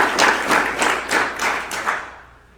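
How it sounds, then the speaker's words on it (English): Audience applause at a tax policy talk, a room of hands clapping steadily for about two seconds before fading out, with no voices over it. "Please give them a round of applause."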